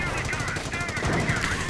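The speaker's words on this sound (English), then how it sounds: "And Panther getting hammered by anti-tank gunfire and the Pershing." Rapid anti-tank gunfire in a World War II strategy game rattles in dense bursts over a noisy battle backdrop, loud and continuous.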